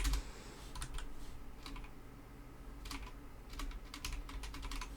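Bursts of quick keystrokes clatter on a computer keyboard during Escape From Tarkov play, close and clear, with short pauses between flurries over a low steady background hum.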